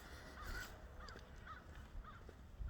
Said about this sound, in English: It's a black crow.